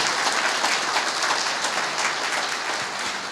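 A church congregation applauds in a dense, steady wash of clapping that fills the whole stretch, loud and continuous, with no voices standing out.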